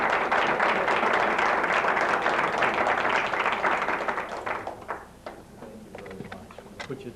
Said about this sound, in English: I'd like to ask for a round of applause